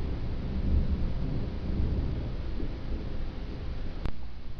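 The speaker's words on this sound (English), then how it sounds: "There we go, there's the thunderclap." A thunderclap rolls through a nighttime thunderstorm over Oklahoma City, a loud, sustained low rumble that fills the whole stretch, with a brief sharp crack near the end.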